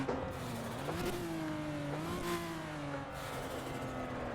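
A Mitsubishi Evo IX FQ320 engine on the Nürburgring circuit, heard onboard as a loud, continuous mid-pitched drone whose tone dips and climbs as the car brakes and powers through a corner, with no talking.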